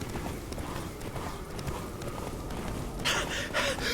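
Roach, a horse in the video game The Witcher 3, runs with steady clip-clop hoofbeats under game ambience, and a brighter burst comes near the end.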